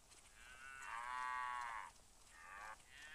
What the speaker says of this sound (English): It's just cows.